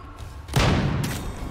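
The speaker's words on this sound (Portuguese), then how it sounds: "Vou dar um tiro." A single heavy gunshot in the turn-based Western game Hard West 2, a sudden loud boom after a quiet moment, followed by a booming echo that fades slowly.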